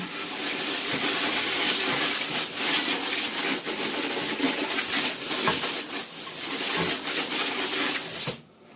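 Pressurized water sprays hard onto a Tigernu T-B314 backpack to simulate rain, a loud, dense, steady hiss that runs for several seconds and then cuts off abruptly at the end.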